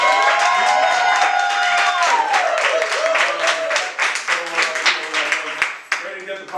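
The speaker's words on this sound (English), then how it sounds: "round of applause for Christina" A crowd at a nightlife dance event claps and cheers in a steady, loud wash, with sustained musical tones and voices mixed in throughout.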